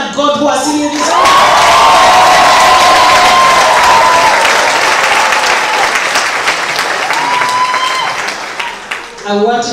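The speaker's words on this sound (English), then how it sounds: "I want you to clap your hands in the air" Graduands at a medical faculty professional oath ceremony clapping and cheering loudly, a dense sustained crowd roar with whoops and shouts that swells early, holds, then tapers near the end.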